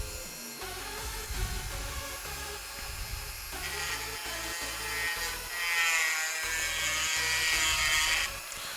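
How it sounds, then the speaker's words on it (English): A hand saw cuts through excess silver at a garage silversmithing bench, giving a fairly faint, raspy scraping with irregular strokes that grows brighter and more continuous toward the end. "I think we want to saw that off."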